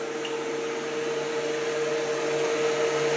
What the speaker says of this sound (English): It's a lot quieter than an ordinary vacuum cleaner.